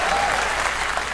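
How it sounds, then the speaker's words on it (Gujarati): Audience applause at a live comedy show, a dense, steady burst of clapping filling the whole moment at close range with no gaps. "તાળીઓ તાળીઓ તાળીઓ, યસ."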